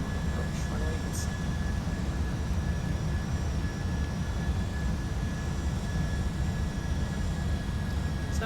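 A Boeing 757 jet airliner on landing approach into Honolulu, heard as a steady broad engine and airflow roar inside the cabin or cockpit, continuous and even throughout.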